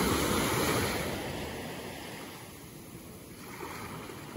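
Ocean waves washing ashore at Cowley Beach, Australia, around sunrise: a steady, broad rushing surf with gentle swells and some wind, continuous and fairly loud with no talking.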